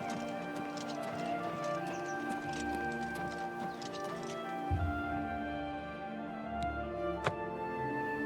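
Horse galloping in Oblivion, a steady run of soft hoof clip-clops over ambient game music, with a couple of sharper thumps near the end and no talk.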